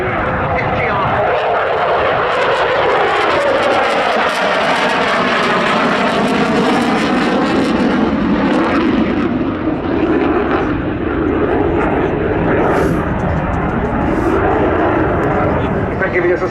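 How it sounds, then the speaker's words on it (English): A Eurofighter Typhoon FGR4 multi-role combat jet performs at a summer airshow at Duxford, its engines roaring loudly and steadily throughout with a sweeping, shifting tone as it passes. "the sheer performance of this outstanding multi-role combat jet, the Eurofighter Typhoon FGR-4"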